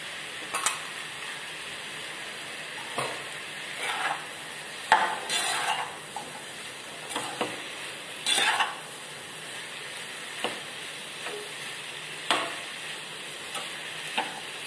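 Potatoes and chopped capsicum for aloo capsicum sabji sizzling in a pan, a soft continuous fry broken by a spoon scraping and stirring in irregular strokes, close and fairly quiet.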